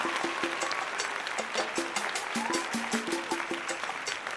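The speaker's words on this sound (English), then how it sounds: "A round of applause, please," A studio audience claps for an arriving guest, Valton Brown, a brisk steady round of applause heard alone over a repeating rhythmic music bed.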